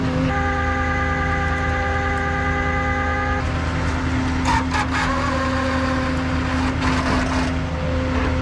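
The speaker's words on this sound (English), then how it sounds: "I'm gonna pull forward a few" A vehicle's engine idles and rumbles steadily up close as it pulls forward a few feet out of a swamp recovery spot, with a sustained tonal whine that drops away partway and faint clanks afterward.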